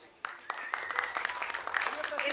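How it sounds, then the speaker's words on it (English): Audience applause at a Bollywood film teaser and book launch breaks out after a sharp first clap, scattered hands building into a moderate round while a voice talks faintly underneath. "Round of applause, please."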